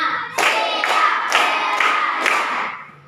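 Five loud, evenly spaced hand claps ring out in a classroom clapping game, each a sharp close burst with a brief pause between, no talk over them.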